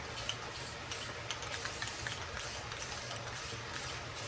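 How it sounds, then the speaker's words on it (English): Gold Rust-Oleum metallic spray paint aimed at a tumbler, short hissing bursts repeating in a steady rhythm of pulses, fairly faint and close. "I'm aiming this spray paint right at that line"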